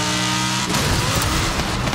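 A Ford on snow tires accelerates on ice in Forza Horizon 5, a loud, steady engine drone that rises in pitch as it gains speed, close and continuous.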